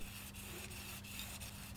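A kitchen knife is sharpened on a Minosharp whetstone, making a quiet, steady rasping rub with faint regular strokes about every third of a second, close but soft.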